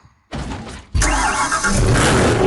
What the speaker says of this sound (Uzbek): Mashinamizga o'tirib olaylik.